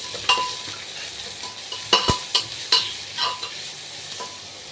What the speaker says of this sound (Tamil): இப்போ வெங்காயம் நல்லா ப்ரௌனாக வதங்கி வர வரைக்கும் வெயிட் பண்ணலாம்.